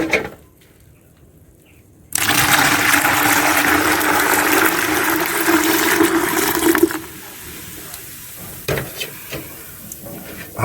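Water pours in a steady loud gush for about five seconds into a container holding a poultry drink mixture, after a quiet start, then fades to soft handling clatter and small knocks.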